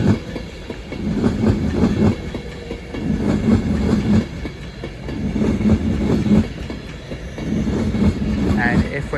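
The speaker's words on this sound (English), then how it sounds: "Incoming now is the 1304 Advantage West Coast service from Blackpool North to London Euston via Birmingham New Street" An Avanti West Coast Class 390 electric train pulls into Crewe station with a steady rumble and rhythmic wheel clatter rising and falling as the carriages pass, close by and fairly loud.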